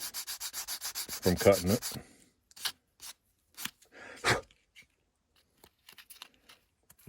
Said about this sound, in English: I just clean up the edges on it. Just to get rid of some of the burrs off